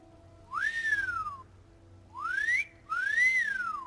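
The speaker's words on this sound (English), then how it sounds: "You mean I would finally be able to whistle for my horse?" Three rising-and-falling whistles ring out over quiet background music in the Skyrim video game, each a clear, fairly loud tone that swoops up and then eases back down, calling a horse.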